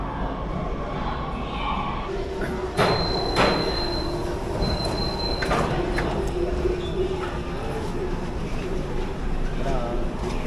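Train carriages rolling on rails in Hefei, China, heard as a steady close rumble with squealing wheels and a couple of sharp high screeches, with a voice talking over the noise.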